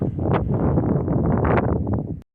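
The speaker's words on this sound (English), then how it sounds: "I can't go to the exact top because it's so windy it'll blow my hat off" Strong wind buffets the microphone high in the mountains of Yosemite in a loud, continuous roar that cuts off abruptly after about two seconds.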